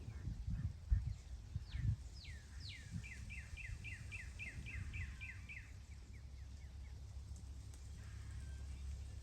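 A hunter's mouth call makes a string of turkey yelps, rapid stepped notes rising and falling in a quick run, moderately close over soft outdoor rustling and low handling noise.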